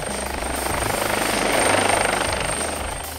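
An AgustaWestland AW139 coastguard helicopter takes off, its loud, close rotor chop and turbine whine swelling steadily with a high whistle running throughout.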